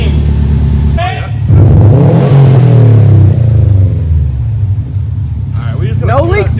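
A 2019 Subaru WRX STI fitted with an Invidia R400 exhaust revs loudly nearby, a deep rumbling rise and fall with a few short blips, as people talk over it.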